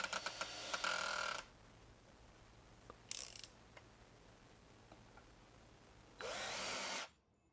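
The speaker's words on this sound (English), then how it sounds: "After a battery change and selecting 1 or the low gear, all the screws were successfully driven in." A Litheli U20 cordless drill driver set to low gear drives screws in three separate bursts of loud whirring, each lasting around a second, with quiet pauses between.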